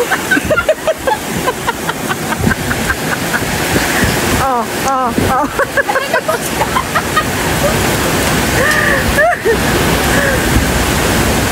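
Heavy rain pours onto a car being washed outdoors, a loud continuous rushing hiss with splashing, while people shout and talk excitedly over it throughout.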